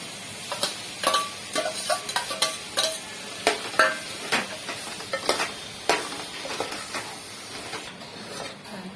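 Soya chunks and potatoes coated in curd are stirred for a soya chunk biryani, a run of close, uneven scraping and clattering spoon strokes with a soft wet sizzle underneath and no talk.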